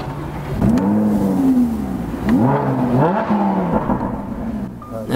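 Lamborghini sports car engine revving up close, with several loud rising and falling throttle blips that swell and ease back in quick succession.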